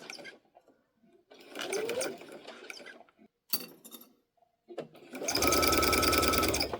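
A sewing machine stitches Minky fabric for a baby tag blanket, running in a steady loud whir near the end after quieter handling noises and pauses earlier.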